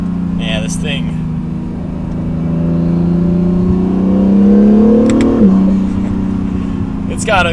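An Acura NSX accelerating hard, its engine note climbing steadily in pitch and loudness to a peak before a quick shift and drop, heard from inside the car with talk at the start and end.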